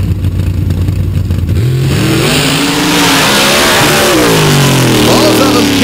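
A home-built dirt drag car with a 762 cubic inch Chevrolet engine on nitrous, making about 2,200 horsepower, roaring loudly as it launches and pulls hard with rising engine pitch, while a voice talks over it.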